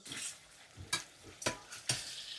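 Ginger curry (inji curry) is stirred in a frying pan at home for an Onam meal, with a low sizzle under four sharp scraping strokes spaced about half a second apart.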